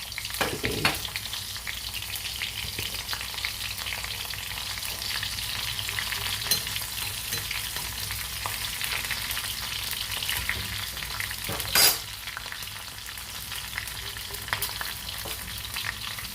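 Mustard seeds with dried red and green chillies sizzle and crackle continuously in hot oil, a steady close frying hiss with one sharper pop partway through.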